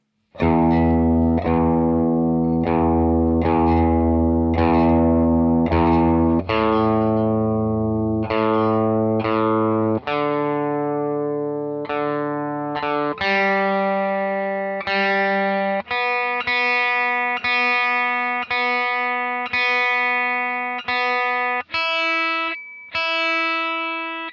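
An electric guitar is tuned through an FM9 effects unit with a distorted, effected tone, with single notes plucked and left to ring over and over, close and loud, with no talking.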